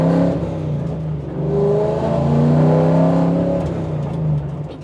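A Ford race car accelerates on a track, its engine note rising steadily in strong, close harmonics and holding loud for several seconds before easing slightly at the end, with no talk over it.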